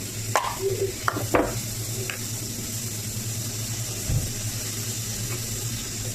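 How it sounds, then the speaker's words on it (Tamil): Tomatoes sautéing in a pan for egg gravy make a low, steady sizzle, with a few light scraping stir sounds and clinks near the start, close by and without talk. "டொமேட்டோ போட்டு வதக்கி எடுத்துடலாமா?"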